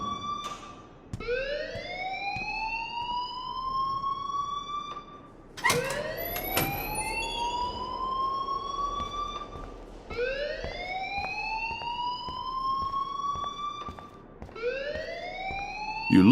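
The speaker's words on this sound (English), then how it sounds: "please turn off that alarm since that's your job" A fire alarm in the video game Life Is Strange wails in repeated rising siren sweeps, each climbing and then holding, loud and continuous with short breaks between cycles.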